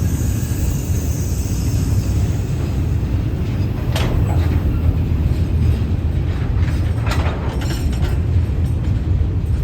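Steady rumble of a State Railway of Thailand express train 167 with air-conditioned sleeper cars passing near Thung Song junction, continuous and loud with faint clanks and squeals from the carriages and no voices.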